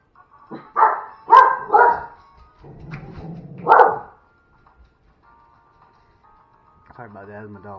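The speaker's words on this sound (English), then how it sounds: "Sorry about that, that's my dogs." Dogs bark several times in a sharp close burst, then go quiet before a voice begins speaking.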